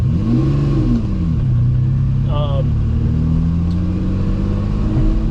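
A Ferrari 330 GTC engine pulls away in second gear with a steady, loud drone that rises and falls slightly in pitch, while someone talks over it.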